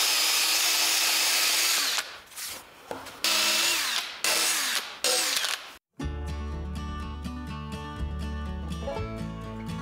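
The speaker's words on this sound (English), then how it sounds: "Alright, so I've wire wheeled every spot that I could find." A wire wheel spun by a drill grinds paint off a steel tractor scraper blade: loud, continuous whirring and scratching with brief pauses as the tool lifts off, then a steadier tonal hum.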